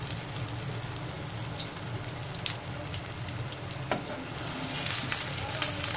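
Chicken chapli kabab, soft patties with ginger and garlic, frying in oil with a steady dense sizzle and a few crackles and pops, close and fairly loud, no voices.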